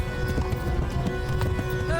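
Horse hooves in the video game Kingdom Come: Deliverance clatter in a quick galloping rhythm, close and busy, with a sustained tone and a voice over the hoofbeats.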